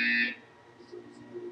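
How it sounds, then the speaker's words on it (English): A short electronic buzzer in the Portal 2 video game sounds once, loud and steady for about a third of a second, then gives way to quiet room tone. "You will hear a buzzer."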